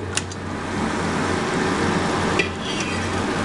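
Chicken pieces go into a kadhai of partly cooked masala and get stirred as they fry, giving a steady close sizzle with a couple of sharp clinks and scrapes against the pan.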